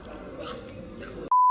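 Someone bites into and chews a small, chip-sized crunchy biscuit snack at a high tea buffet, giving close, soft crunching for about a second before a sharp electronic beep cuts in.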